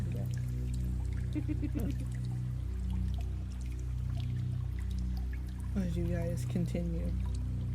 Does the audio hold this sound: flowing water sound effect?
yes